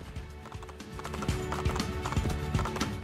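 Hooves clatter in quick, rhythmic beats as a horse gallops in Assassin's Creed II on Xbox 360, steady and close, with game music or ambience running underneath.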